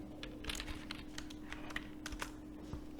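Rapid typing on a computer keyboard, a quiet, close run of light clicks and key taps at an uneven rhythm, no voices.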